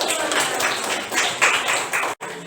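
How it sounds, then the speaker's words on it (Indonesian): A classroom of students clapping their hands together, a dense, continuous patter of many claps close by that swells slightly, then breaks off abruptly near the end. "Tepuk tangan ya untuk kita."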